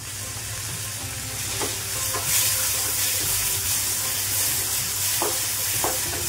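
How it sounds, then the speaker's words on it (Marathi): Onion, curry leaves and tomato fry in a pan for upma, giving a close, steady sizzle. A spoon stirs and scrapes through it at irregular moments. "कांदा थोडासा भाजला की कढीपत्ता टाकून घ्यायचा आणि कढीपत्ता थोडासा परतला की टोमॅटो टाकून घ्यायचा आहे।"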